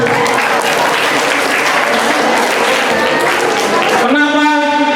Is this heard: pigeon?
no